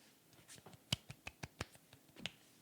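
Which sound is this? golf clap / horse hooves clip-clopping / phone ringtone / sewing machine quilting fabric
golf clap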